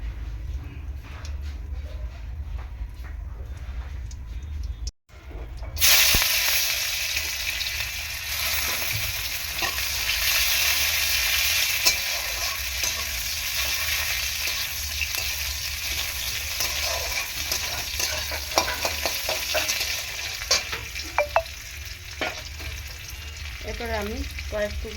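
Chopped onions hit hot oil for a fish curry with pumpkin and potato, bursting into a loud, steady sizzle after a brief pause, with stirring scrapes in the pan.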